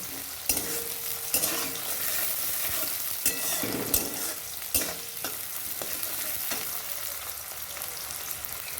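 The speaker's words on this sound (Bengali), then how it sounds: "পেঁয়াজটা লাল লাল করে ভেজে নেব" Sliced onions sizzle and fry in a pan while being stirred for an eggplant dish, with a steady hiss and occasional louder scrapes and clatters of the spoon, close up and with no talking.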